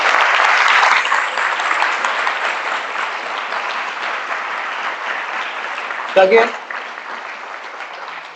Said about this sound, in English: clapping for Gita is okay.